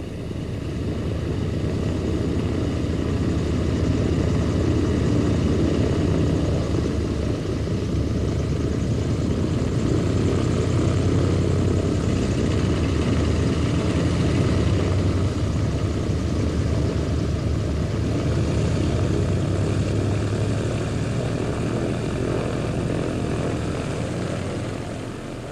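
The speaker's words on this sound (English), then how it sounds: "Aboard one of Chalk's seaplanes, we make the 20-minute crossing across the Gulf Stream to the tiny island of Bimini." Chalk's seaplane crossing the Gulf Stream to Bimini, its propeller engines droning steadily and loudly throughout, heard from inside the cabin with no voices.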